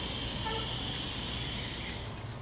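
A garden hose sprays water over newly laid St. Augustine sod to rinse off dirt, making a steady, close, broadband hiss that fades slightly near the end, with no talking.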